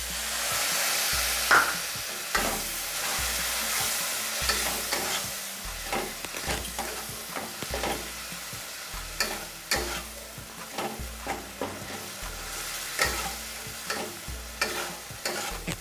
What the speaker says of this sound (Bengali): মশলা ভালো করে ভেজে নেব যাতে কাঁচা গন্ধ না থাকে।